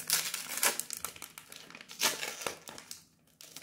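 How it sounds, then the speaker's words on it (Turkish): A trading card pack wrapper crackles and crinkles as it is torn open close by, with bursts of loud plastic rustling that fade to near silence at the end. "Açıyorum ilk paket."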